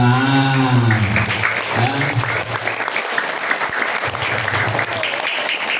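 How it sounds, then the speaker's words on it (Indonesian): Audience applause fills a school Isra Mi'raj commemoration, loud, steady clapping from a crowd held for several seconds, with some musical tones and voices under it at the start. "Tepuk tangan juga nih"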